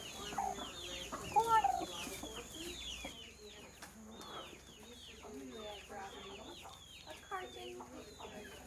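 Chickens cluck and chatter in a hen house on a farm in Hawaii, with a brooding mother hen among them, a steady layered flock sound close by, briefly under a few spoken words.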